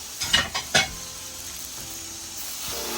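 A fish head drops into spices frying in a pan: a few quick clattering scrapes and bumps at first, then a steady soft sizzle continuing alone, close by, without speech.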